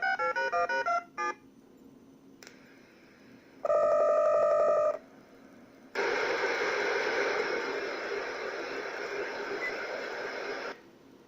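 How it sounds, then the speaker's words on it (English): Modem-style connection tones through a MiSTer MidiLink telnet link: a rapid burst of stacked dialing beeps, a brief steady multi-tone chord, then a loud sustained hissing handshake noise lasting several seconds, with no talking. "but you get a dial tone."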